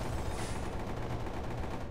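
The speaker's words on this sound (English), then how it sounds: "I hear shooting." Gunfire rattles in Underhell, a Half-Life 2 mod, a steady rapid stream of shots heard somewhat muffled and distant, filling the brief moment without pause.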